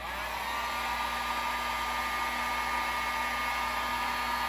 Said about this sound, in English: Gonna grab our heat gun.